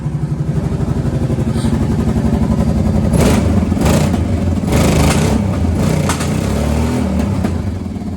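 Kawasaki Brute Force 750 ATV engine idling nearby with a steady, throbbing putter, then revved in several short bursts that add clattery roughness before settling back to idle.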